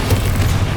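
A Confringo spell explodes in the video game Hogwarts Legacy as a single loud, deep boom with a rumbling low body, heard alone with no talk.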